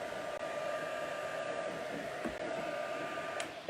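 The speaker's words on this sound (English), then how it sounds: "The heat gun, yeah." A heat gun drying a mixed media canvas blows with a steady, continuous whooshing roar throughout, close and unbroken, with a brief dip near the end.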